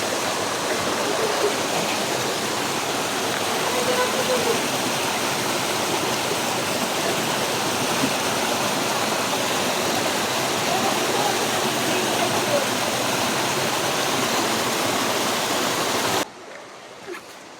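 A small river flows through a forest, giving a steady close rush of water that holds constant for most of the stretch before it suddenly drops away near the end.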